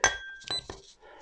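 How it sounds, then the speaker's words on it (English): A glass is struck carefully, ringing with a bright clear clink that sustains briefly, followed by two softer taps and a faint fading resonance. "If I can carefully hit the glass and press hold at the same time,"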